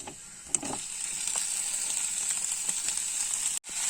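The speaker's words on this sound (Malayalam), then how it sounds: "നമുക്ക് ചിക്കൻ ഇട്ട് കൊടുക്കാം." Chicken pieces dropped into a pan of coconut oil and sizzling, a steady close hiss with a brief clatter as they go in and a sharp break near the end.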